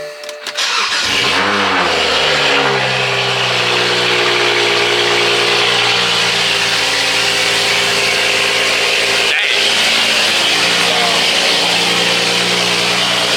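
An Audi 90 cranks briefly and fires up, then settles into a loud, steady idle with a deep engine drone close by that continues throughout.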